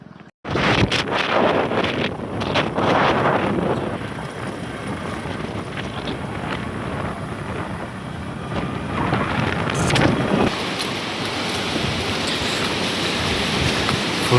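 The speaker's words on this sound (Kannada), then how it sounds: "ಫುಲ್ ಗಾಳಿ ಎಲ್ಲ ಬೀಸ್ತಿದೆ." Strong wind blasts across a scenic viewpoint, a loud continuous buffeting roar against the microphone with gusty surges and no speech.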